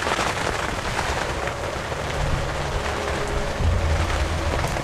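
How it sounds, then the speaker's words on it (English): Steady rain falling outdoors on a hillside in northern Missouri on a windy morning, a dense continuous hiss of drops on surfaces with low wind rumble, loud and without talk. "And now it's raining again."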